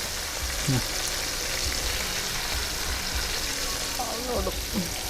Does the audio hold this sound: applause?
no